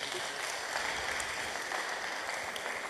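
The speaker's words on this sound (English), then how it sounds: "Let's give ourselves a round of applause." Steady round of applause from an audience after a panel discussion at a cassava week celebration, many hands clapping evenly in a continuous, moderately distant wash with no speech over it.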